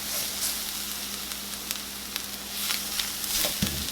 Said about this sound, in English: Give that a little mix. Get that ground beef all nice and coated in that flour.